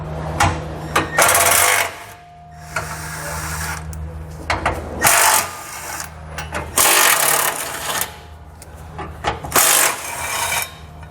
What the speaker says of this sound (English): So we're going to grab a 13mm socket and we're going to pull all 4 of those out.